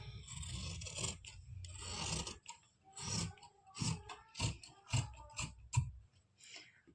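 Scissors cut through fabric at the shoulder of a kameez (shirt), giving a steady raspy scrape for about two seconds, then a run of short, evenly spaced snips close to the microphone.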